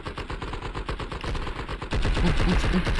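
Rapid automatic gunfire in the video game Blood and Bacon, a fast, even stream of close shots that grows louder and denser partway through, with no talking.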